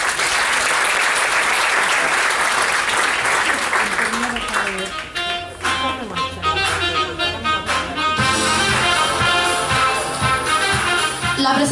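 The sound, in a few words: audience applause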